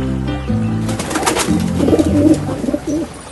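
An animated pigeon in a fable coos in short, low, rolling calls at close range, set against a background music bed, with no one speaking.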